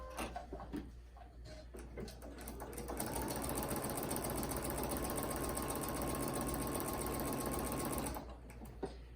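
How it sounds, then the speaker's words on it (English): A sewing machine stitches a quilt, starting with a few short bursts before settling into a steady, loud, fast run of stitching for about five seconds, then stopping. "I'm just going to make sure my bobbin stitches are all good before I get too far in here"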